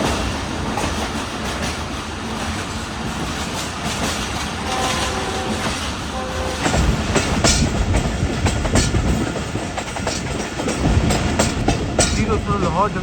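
A Pakistan Railways train between Lahore and Karachi, approaching Lahore Cantt station, rumbles along with rhythmic clickety-clack of wheels over rail joints, loud and continuous from inside the carriage, with faint voices in the background.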